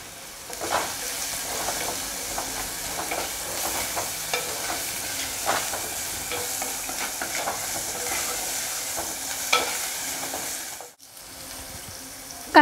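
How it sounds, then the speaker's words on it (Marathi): Onion roasts in a pan for harbhara thecha, a constant crackling sizzle broken by spatula scrapes and taps as it is stirred, cutting off briefly before a final knock. "कांदा छान असा आपण भाजून घेतलेला आहे"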